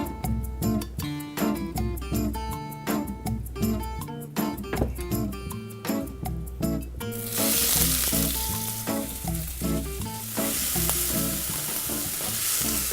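Garlic sizzles in hot olive oil in an iron pan, a crackling hiss that rises midway and sits under prominent rhythmic background music.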